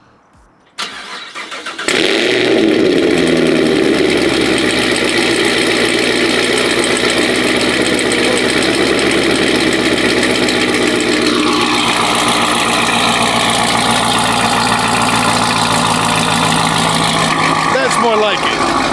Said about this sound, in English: it wouldn't be right if I didn't have my cold start